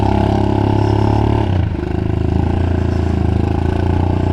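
A 50cc moped engine with a new exhaust revs loudly and close by, a buzzing, throbbing drone that drops briefly partway through and then settles into a steady pulsing idle.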